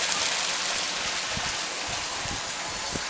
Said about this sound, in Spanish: Ahí va el agua clarita, que está el agua ahorita.